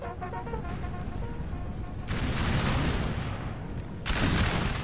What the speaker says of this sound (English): Right now is just shooting and shooting and shooting